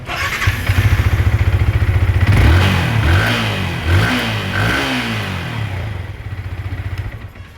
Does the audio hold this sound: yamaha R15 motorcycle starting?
yes